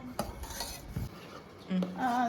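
A spoon clinks and scrapes against a pot while muskmelon juice ingredients are stirred together, with scattered metallic taps and brief ringing tones, close and quiet, no talking.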